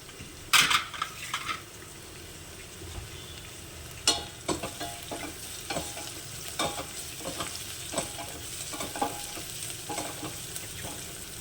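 Coriander stems and curry leaves sizzle in a hot pan for a masala-stuffed ridge gourd curry, with a sharp burst of frying at the start, then a steady low crackle and repeated stirring clinks against the pan.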